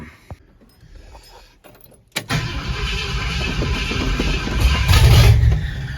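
A 1968 Ford F-100 with a 360 FE V8 and open headers cranks and fires after a few quiet clicks, then settles into a loud, rumbling, choppy idle that swells in volume.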